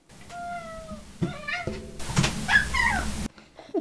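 A cat gives several short, close squeaky meows and chirps in quick succession, clear and fairly loud over a faint background.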